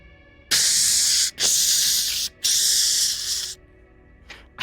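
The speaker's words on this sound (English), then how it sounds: "He's gonna walk over towards any fire extinguisher he has." A fire extinguisher sprays loudly in three long, hissing bursts with short gaps between them, then a fainter brief hiss at the end, used as a sound effect during a Dungeons and Dragons tabletop game.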